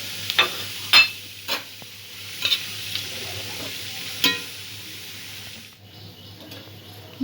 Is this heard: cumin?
yes